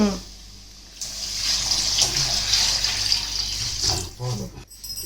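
Rice-washing water pours and splashes steadily for several seconds, a close, continuous pouring sound that tapers off near the end with some faint clatter.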